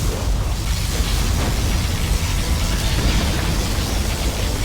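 A particle cannon blast in Command & Conquer Generals Zero Hour, a sustained, loud, roaring boom of dense crackling energy that holds steady throughout without any talk.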